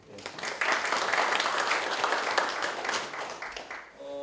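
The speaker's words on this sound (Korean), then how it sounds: "큰 박수로 한번" A conference audience at a digital signage event applauds a presenter after a talk on hologram experiences; moderately loud clapping that swells quickly, holds, and thins out near the end.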